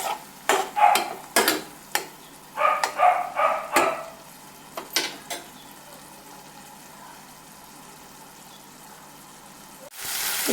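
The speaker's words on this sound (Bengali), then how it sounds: "এখানে আমি দিয়ে দিলাম সর্ষে, পোস্ত, কাঁচা লঙ্কা বাটা। দিয়ে একটু নাড়াচাড়া করব।" Mustard, poppy seed and green chili paste stirred in frying oil, heard as a run of close, scraping stir strokes in uneven bursts over a soft, faint sizzle, then a quieter stretch before one more scrape at the end.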